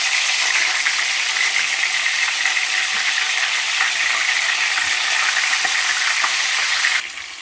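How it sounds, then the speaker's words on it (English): Fish frying in hot oil for Jamaican brown stew fish, a loud, steady, dense sizzle that holds unbroken for about seven seconds, then drops sharply and turns quieter near the end. "my oil is now hot, so I'm gonna put my fish in to fry"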